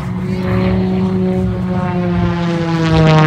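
A propeller aerobatic airplane drones steadily at an airshow during a slow roll, the engine loud and sustained with a gently shifting pitch as it passes overhead.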